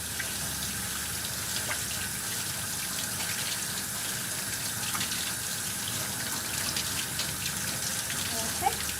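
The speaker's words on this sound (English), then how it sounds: "Then you're going to rinse them out." Tap water runs in a steady, even gush while hands are rinsed at a sink, a continuous close hiss with faint splashes throughout.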